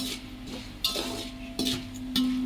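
Chana dal frying in oil while being stirred in a pan, with a close, steady sizzle broken by scraping and clinking strokes of the spoon.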